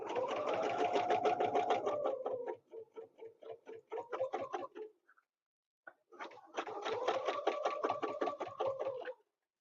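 A sewing machine stitches a quilt guided by a ruler template, running in rapid, steady bursts of mechanical clatter, pausing briefly and starting again, close and clear.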